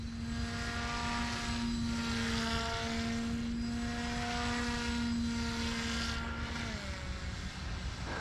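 A paramotor engine in flight during a tight turn, a loud, steady propeller drone that holds for several seconds, then drops in pitch as the throttle changes.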